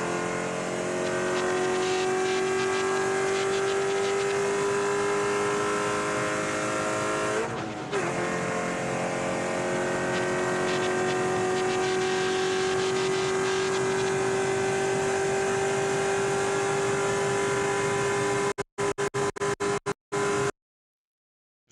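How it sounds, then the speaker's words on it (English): Spec Corvette race cars racing at Daytona International Speedway, a loud continuous sustained engine drone with steady pitch, a brief dip midway, and cutting out near the end. "This pair of cars, Griffin, Sullivan, actually in third"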